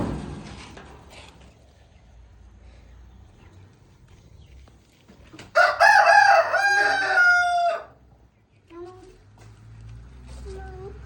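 Chickens in a coop of about eighteen birds, with a rooster crowing loudly at close range in one long call, followed by shorter clucks and calls, amid background noise and people talking nearby.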